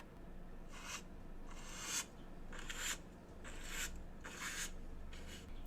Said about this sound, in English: Oh, yes, sweeping,